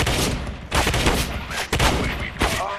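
Rapid shotgun blasts in the video game Counter-Strike: Global Offensive, about five loud, sharp bangs in quick succession, each with a short rumbling tail, close and dominant with no talk over them.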